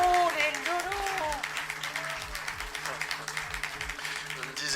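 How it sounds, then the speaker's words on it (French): An audience bursts into sustained applause with dense, overlapping clapping that starts loud and settles slightly while continuing steadily, mixed with a low musical tone underneath. "sous vos applaudissements, messieurs, dames"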